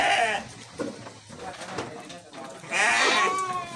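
Garut sheep of the fighting or contest type bleat loudly and close by in a pen, wavering calls at the start and end with other animal noise and some talk in between.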